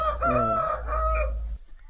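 A rooster at a farm in Badvel gives one loud, close cock-a-doodle-doo crow that rises and trails off, then falls quiet.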